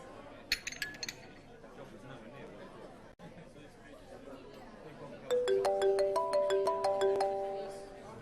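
A mobile phone ringtone chimes out in a bright repeating melody for several seconds, loud and close, following earlier light clinks of glassware and murmured talk at a meal.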